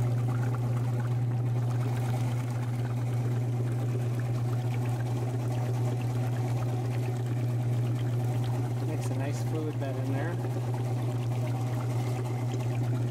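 Water streams steadily across an RP4 shaker table used for gold recovery, a constant pouring rush over a strong machine hum, while someone talks over it.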